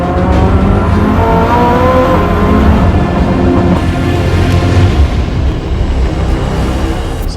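A Koenigsegg Jesko Absolute hypercar driving hard on a test track, its engine roaring loud and close throughout with layered rising and falling revs, no talking.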